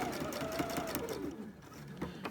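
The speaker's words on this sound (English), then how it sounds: "I can start my quilting" Sewing machine running steadily while quilting a project, a continuous motor whir with rapid needle ticking, fairly close and unbroken throughout.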